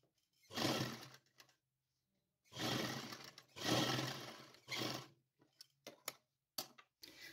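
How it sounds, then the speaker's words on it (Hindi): A sewing machine stitching the bottom hem of a doll's winter night dress pants, running in several short whirring bursts separated by pauses, then a few clicks and brief taps, close and fairly quiet. "यहाँ पर बॉटम को सिलाई लगा देती हूँ"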